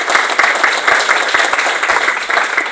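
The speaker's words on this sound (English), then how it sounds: "That does deserve some applause." Audience applause at a community meeting about the Mahomet Aquifer, a dense, steady wash of many hands clapping in a room, sustained and fairly loud throughout with no talk over it.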